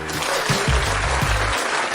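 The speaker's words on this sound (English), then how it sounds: "Let's give a round of applause to the real talkers." Audience applause during a pregame panel discussion about a 49ers versus Broncos game, a steady wash of clapping over about two seconds with low thumps mixed in, fairly close and moderately loud.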